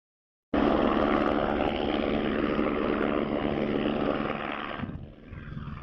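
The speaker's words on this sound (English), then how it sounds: "I guess we can do without the helicopter noise, right?" Helicopter rotor and engine roar recorded over a sailing boat race, a loud, steady broadband drone that starts abruptly, holds for several seconds, then cuts off and fades.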